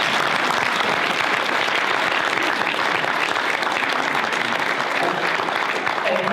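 Sustained audience applause at a 2017 awards ceremony for the Wallace Stegner and Fools for a Day awards, a loud, even wash of many hands clapping throughout.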